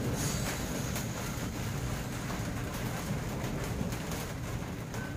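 Steady low rumble and rattle of a moving train heard from inside a carriage, constant and enveloping, with faint clicks and no talking.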